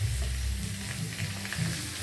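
Squid hisses and sizzles steadily as it fries in a hot pan for a stir-fry of black squid, a continuous close crackle with a low rumble underneath and no talking.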